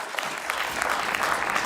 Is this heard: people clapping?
yes